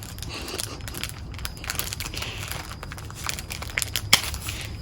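Crinkly plastic packaging rustles and tears in short bursts, with one sharper rip near the end; close and fairly quiet, no talking.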